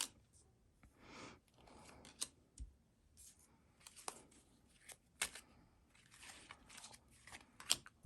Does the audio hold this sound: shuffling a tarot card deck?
yes